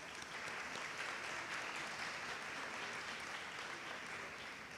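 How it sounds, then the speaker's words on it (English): Commencement ceremony audience clapping steadily, a dense, even wash of applause that sustains throughout at a moderate distance. "Give a hand of applause for her."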